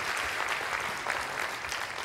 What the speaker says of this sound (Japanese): 拍手で、お迎えくださいませ。